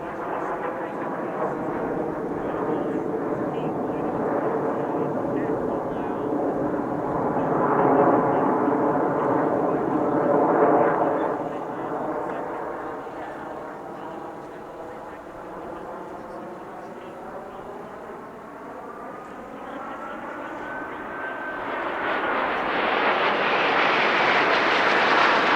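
Snowbirds aerobatic team jets fly a vertical manoeuvre at an airshow in California, their engine roar swelling and fading with rising and falling tones before surging loudly near the end.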